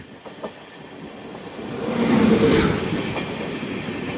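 A train hauled by a WAP-7 electric locomotive rumbles past a crossing nearby, the roar swelling to a peak midway and holding steady with faint rhythmic clatter, no voices.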